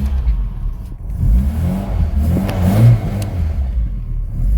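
A Tofaş Şahin car engine running on poorly tuned LPG, which stalls at idle, idles roughly and is revved repeatedly, the rumbling rising and falling close by with no talking.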